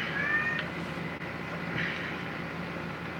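A cat meows once, rising and drawn out, followed by a fainter second meow over a steady background hum, with no talk.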